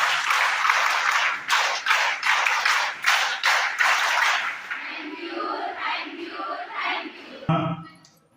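Applause at a government girls' high school event, rhythmic bursts of clapping from many hands for about four seconds, then fading into quieter room sounds.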